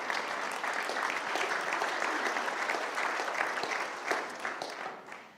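Audience applause at a city State of the City address, a steady dense clapping that fills the whole stretch at moderate loudness, with no voice over it.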